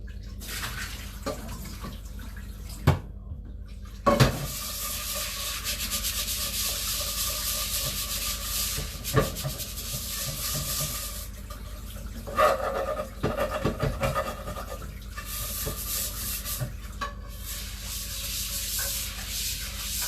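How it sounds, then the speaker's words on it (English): Water running in a kitchen sink as a pan is rinsed and scrubbed, a steady splashing wash with a few sharper knocks and scrapes of the pan, fairly quiet and close, with no talking. "Then I'm going to give this pan just a really quick rinse because we're going to cook our dumplings in here."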